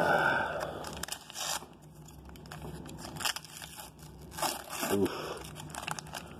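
Crinkling and tearing of mail package wrapping around trading cards, a string of close, brittle rips and rustles between quiet pauses, with someone talking over it.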